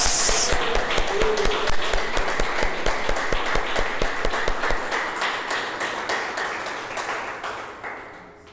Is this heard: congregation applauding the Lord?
yes